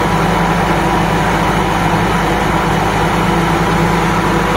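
A tractor carrying a grape sprayer rig on an Australian farm idles nearby, a loud, steady, low engine drone that holds unchanged throughout without pauses or talk.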